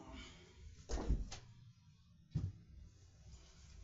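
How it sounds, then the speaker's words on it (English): An indoor room door is shut twice, giving two soft, dull thuds about a second apart against quiet background hiss. "I have to close my door."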